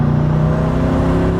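Steady loud roar from a Koenigsegg Regera hypercar engine at 70% throttle, a dense continuous drone with strong low harmonics and no pause.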